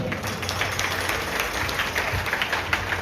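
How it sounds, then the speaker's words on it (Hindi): Audience applause at a live Shyam Baba bhajan kirtan gathering for Ekadashi, a steady wash of many hands clapping at moderate volume, continuous for the whole stretch with some low rumble underneath. "अरे इतनी जोरदार ताली क्या?"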